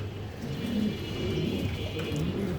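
Lark pigeons in a loft give a continuous run of soft, low, rolling coos over a steady background hum, moderately close and fairly quiet.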